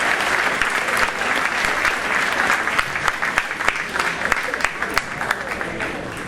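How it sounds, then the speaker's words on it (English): A crowd at a high school varsity sports awards ceremony claps for senior athletes, a dense, sustained round of applause with scattered sharper claps, with a voice speaking faintly under it. "Please round of applause for all of our senior athletes"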